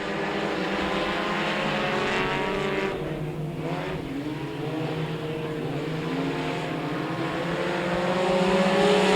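Race cars at Kennedale Speedway Park drone past with rising and falling engine pitch, a continuous loud roar that swells toward the end as the pack nears.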